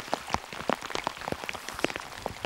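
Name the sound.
rain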